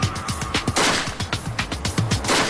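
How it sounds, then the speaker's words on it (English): Rapid gunfire is aimed at a self-sealing fuel tank in an outdoor field, with sharp, loud shots cracking in a fast uneven stream over about two and a half seconds. "begins unloading rapid fire"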